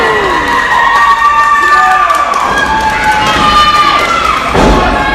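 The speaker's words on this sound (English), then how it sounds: "Full Nelson slam." At a wrestling event, a full nelson slam lands as one heavy thud on the mat near the end, amid a cheering crowd and excited commentary.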